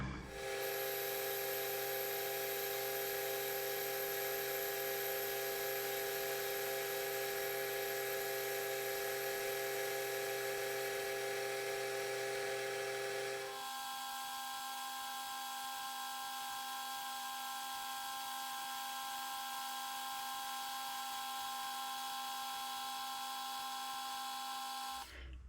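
A lathe cuts a taper on a steel pipe centre, a steady high tonal whine with machine hum running continuously, the tone dropping and changing character midway as the cut progresses, no voices.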